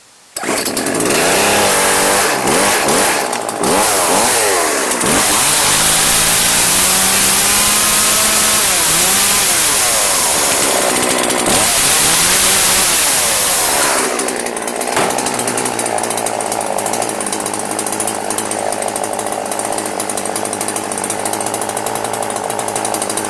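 Homelite 23AV Powerstroke chainsaw with an 18-inch bar, a cheap trash-picked find, starts up and runs loud and close, its engine rising and falling through several revs before settling into a steady idle.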